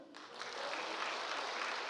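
Church audience claps during a sermon gathering, the applause swelling in after a brief quieter start and holding as a dense, even patter of many hands with no voices on top.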